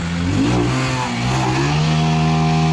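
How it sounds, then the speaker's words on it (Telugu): A worn Honda Shine motorcycle engine, smoking heavily, revs loud and close, its rough droning note rising and settling and then holding steady, with no one talking. "అలాగే దీని సౌండ్ చూడండి ఎలా వస్తుంది"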